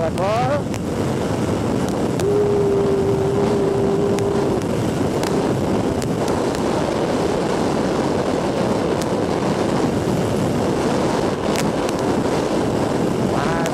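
An Aprilia SR GT 200 scooter runs at full throttle on a road, its engine droning steadily under heavy wind rush at the microphone.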